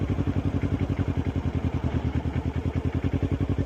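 A 2009 Kawasaki Ninja 250 motorcycle engine runs at a steady low speed through a turn during a test ride, giving a rapid, even pulsing thrum close to the microphone.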